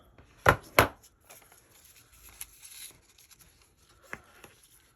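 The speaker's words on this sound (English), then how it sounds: "I need to cut some of the doily off" Scissors cut a paper doily for a scrapbook page: two sharp, close snips land in quick succession, followed by faint paper rustles and a couple of softer clicks in a quiet room.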